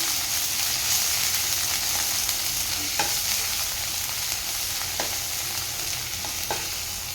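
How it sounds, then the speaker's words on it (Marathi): Spring onions frying with garlic in a pan while cooking egg fried rice: a steady, even sizzle with a few faint utensil taps, held at a constant level throughout and no voices. "आता ह्यामध्ये घालणार आहे कांद्याचा पातीचा कांदा ना तो घालून घेते आणि ते सुद्धा एकदा परतून घेणार आहे."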